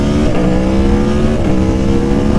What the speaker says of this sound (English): Let's hear that V4 rumble.